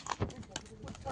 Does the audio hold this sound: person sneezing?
no